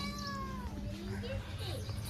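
A pet cat meows several times in a gliding, drawn-out call, clear and close, with voices and background noise in a village home during a Sankranti celebration.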